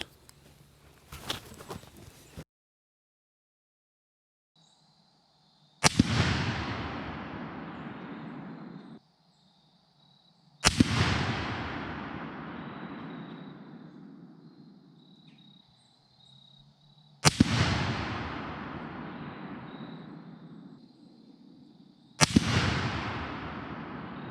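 Four loud rifle shots from a Ruger No. 1A single-shot chambered in .303 British, fired with 150-grain loads at an outdoor range, each a sharp crack followed by a long rolling echo, spaced about five seconds apart, with no talking.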